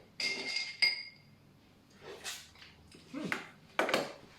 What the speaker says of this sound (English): we're gonna stir until the drink is chilled